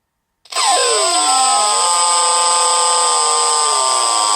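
Sismo Qad4 synthesizer oscillator starting abruptly and sweeping from a thin squealing tone into a fatter, fuller sustained sound with shifting harmonics, loud and alone.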